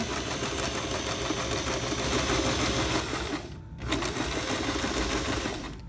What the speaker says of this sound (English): So then I'm gonna back stitch and then keep going.